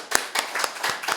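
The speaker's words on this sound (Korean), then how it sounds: "오늘 세례 받으시는 분들에게 여러분 축하의 박수를 한번 보내주시기를 바랍니다." Short burst of applause from a church congregation celebrating newly baptized members, several distinct claps in uneven rhythm, close and moderately loud.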